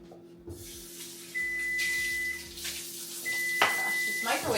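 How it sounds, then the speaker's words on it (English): Two sustained electronic beeps from a microwave, each lasting about a second, ringing out over a kitchen background with some faint clatter. "this microwave is yelling at me"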